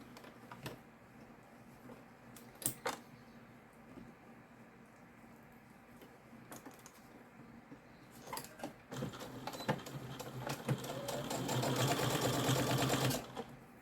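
A sewing machine stitches around a quilted bag, starting with scattered short runs and clicks, then settling into a steady, rapid, close hum of stitching that grows louder toward the end.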